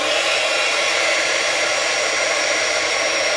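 A heat tool blows hot air over embossing powder on a stamped card, a loud, continuous fan-like whoosh of broadband rushing air held steady throughout, with no talking.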